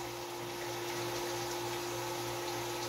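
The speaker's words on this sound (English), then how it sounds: "And now I know that this thing will run a sump pump." A sump pump powered by an EcoFlow Delta Pro runs steadily, giving a constant motor hum with a low rushing of pumped water, even and unbroken throughout.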